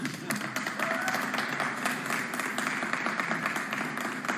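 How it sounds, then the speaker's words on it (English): Audience applause at a Realme phone launch event, a steady wash of many hands clapping in a large hall that holds at a fairly even level across the whole stretch, with crowd noise mixed in. "Is there any applause?"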